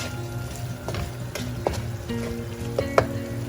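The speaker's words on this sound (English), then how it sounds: "I'm going to give it a nice quick stir." Cumin-spiced potatoes sizzle in a pan as a spoon stirs them quickly, a steady close frying hiss broken by a few sharp scrapes and knocks against the pan.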